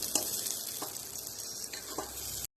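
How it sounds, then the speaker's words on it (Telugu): A tempering with drumsticks sizzles and fries in a pan, a steady close crackling hiss with a few soft clinks, running alone until it cuts off abruptly. "సో ఇలా మన తాలింపు వేగుతుంది"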